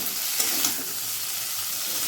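Shrimp fry in a hot pan and are stirred, producing a loud, continuous sizzling hiss with a couple of quick utensil scrapes early on and no voices.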